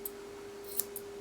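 Scissors trimming a dog's ear fur make a few soft, sharp snips, three brief cuts close to the microphone over a quiet steady hum.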